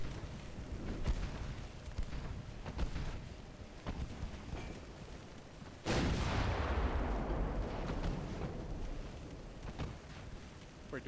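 Naval guns fire in the Ultimate Admiral Dreadnoughts naval warfare game: a steady run of distant booming shots, then a loud close salvo with a long rumbling decay, no voices.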